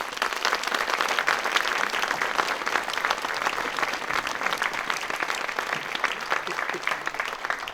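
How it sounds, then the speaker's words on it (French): An audience applauds a musician with sustained, dense clapping that holds at an even level from start to finish, filling the room. "Je vous demande de l'applaudir."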